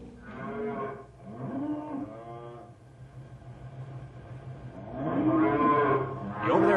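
Cattle in a herd low in long, drawn-out moos, several overlapping calls near and loud in a radio drama scene set on a cattle range in Coconino, with no talk.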